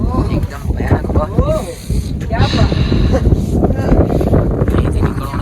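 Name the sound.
strong wind on the Brahmagiri mountain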